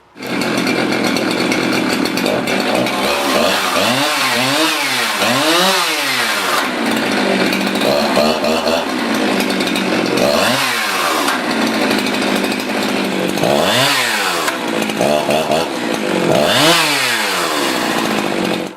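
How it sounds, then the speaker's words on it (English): A chainsaw with a freshly replaced brake band runs continuously and loudly up close, its motor revving up and down in repeated bursts over a steady high idle. "I'm still going to start up the chainsaw and test it out that way"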